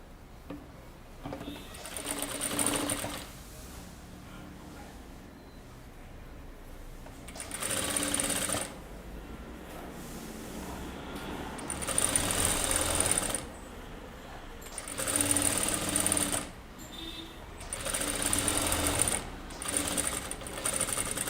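A sewing machine runs in several separate bursts while stitching a deep-neck kurta. Each run lasts a few seconds, with short quiet gaps between them, and the whirring stays steady and moderately close.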